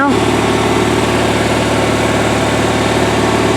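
A cold Oliver Super 66 tractor engine idles roughly just after a hard start on an 11-degree day, a loud, steady, chattery rumble running throughout with a possible voice in the background.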